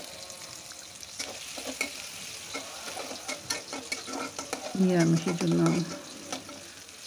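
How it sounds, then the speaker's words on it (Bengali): Onions frying in oil in a pot for chicken curry give off a busy crackling sizzle with scattered pops, close and moderately loud, while a voice speaks briefly over it. "পেঁয়াজ দুটোই তেলে একটু ভাজা ভাজা হোক।"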